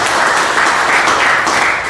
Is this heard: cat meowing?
no